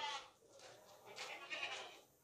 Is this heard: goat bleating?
yes